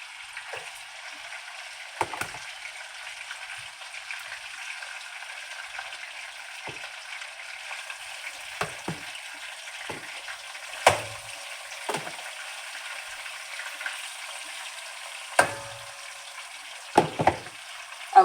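Fish frying in a home kitchen pan, a steady soft hiss of hot oil running throughout with scattered sharp pops and crackles, moderately quiet and close, with no talking.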